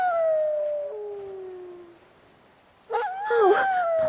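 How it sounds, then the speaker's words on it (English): A dog howls on an island, a long falling wail that fades out, then after a brief pause a second, louder and more wavering howl rises, sounding fairly close with no other sounds around it. "there he goes, howling again."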